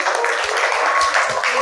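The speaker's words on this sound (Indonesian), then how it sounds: "Kita beri tepuk tangan untuk kelompok 4." A classroom full of students claps for a group that has just finished its presentation, a short, close burst of steady applause.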